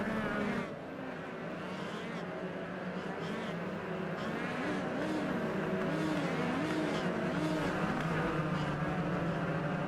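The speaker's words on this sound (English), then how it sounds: "There it is, our pace car is down and away, and green flag is in the air." Race cars at the Coliseum accelerate together as the green flag drops for a 15-lap sprint, a loud, steady engine roar holding for about ten seconds with a rising and falling whine.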